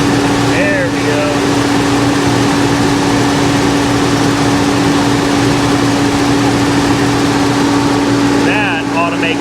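A 1989 Nissan Hardbody Z24 engine running very loud and close, a constant droning roar with a steady hum, as someone speaks briefly at the start and end.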